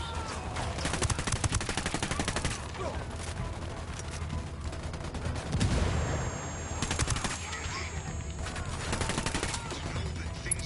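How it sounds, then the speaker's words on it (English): Heavy automatic gunfire and repeated shots crackle through a Ghost Recon Wildlands firefight, loud and dense for the whole stretch, with a few heavier bursts standing out. "Opening fire on these fuckers."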